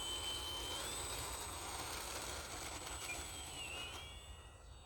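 A radio-controlled Micro Scrappy model airplane flies with a steady, whining electric motor hum. The pitch slides up and down as the throttle changes, and the plane stays fairly distant with no voices.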